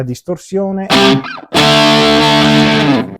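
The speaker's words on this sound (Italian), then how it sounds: "vi faccio solo sentire la distorsione" Distorted electric guitar from an Enya Inspire smart guitar, sustained overdriven notes and chords ringing loud and close, with a short pause before a long held distorted chord.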